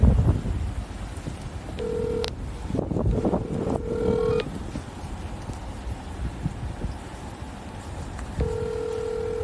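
Several short electronic telephone keypad tones beep in separate clusters as a phone number is dialed outdoors, with steady wind and background noise and no talking.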